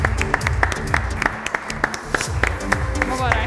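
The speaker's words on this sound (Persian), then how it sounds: "نمیخواید تشویقشون کنی؟" Studio audience applause on an Iranian television program, a dense burst of clapping with sharp individual claps close by, carrying on steadily under a voice in the room.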